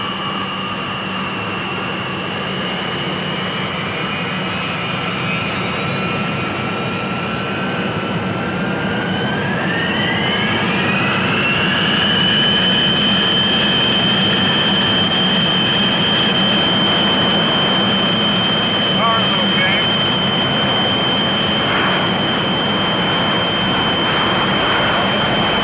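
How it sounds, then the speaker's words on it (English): A jet engine roars steadily and loudly, its whine rising in pitch as the aircraft spools up and makes a rolling takeoff with noise abatement, sustained throughout. "you're clear for takeoff. And this will be a rolling start with noise abatement"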